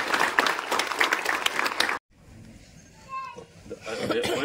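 A theater audience bursts into dense applause at a screening of the Malayalam film Philips, loud for about two seconds before cutting abruptly to a quieter, murmuring room with faint voices.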